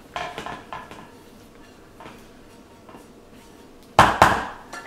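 Kitchen clatter from a pan and bowl being handled after cooking scrambled eggs: scattered light knocks and scrapes, then two loud, close metallic clanks near the end.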